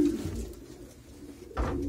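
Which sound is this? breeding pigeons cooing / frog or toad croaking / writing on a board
breeding pigeons cooing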